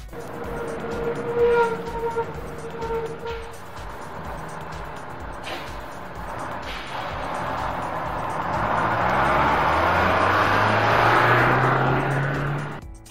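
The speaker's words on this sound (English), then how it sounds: "Bus." A bus idles with a steady engine rumble, then revs up and accelerates with a rising, increasingly loud engine tone toward the end.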